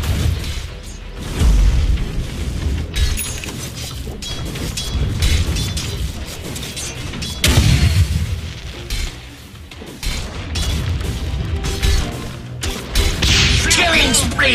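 Dota 2 match where a tower is under attack, with game combat noise of thuds, impacts and booms throughout, loud and busy, along with spoken announcer lines.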